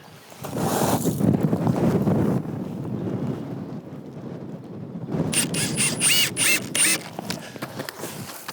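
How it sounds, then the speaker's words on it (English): Strong gusts of about 20 miles an hour buffet the microphone on a steel building job site, a steady roar with rumbling low-end bursts, then lighter wind under faint higher clinks. "Because 20-mile-an-hour winds, this might blow around"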